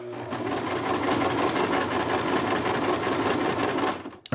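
A sewing machine stitching a small circus suit for a plush toy, whirring steadily and loudly up close with a fast even needle rhythm, stopping abruptly near the end.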